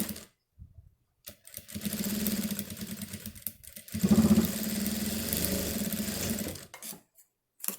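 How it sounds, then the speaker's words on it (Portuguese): A sewing machine runs a topstitched seam, two close bursts of rapid needle chatter and motor whir, separated by a brief pause, with short stops and silence at both ends. "presta bastante atenção e faz a mesma costurinha rebatida"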